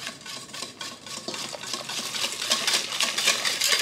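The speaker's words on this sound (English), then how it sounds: "I'm going to kill the heat quite a bit, and I'm going to start whisking." A sauce being whisked in a pot over low heat for chocolate eclairs, with a fast, steady scraping rhythm of the whisk against metal that gets a little louder toward the end.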